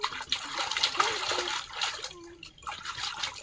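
Water splashing and trickling as someone bathes in a village pond, with irregular close splashes and drips at moderate loudness and no talk.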